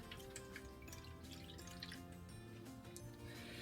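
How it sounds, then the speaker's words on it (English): A cup of buttermilk poured into a pan holding an extra large egg for a dredging mix, a soft, continuous liquid trickle heard faintly and close. "we're going to add in 1 cup of buttermilk"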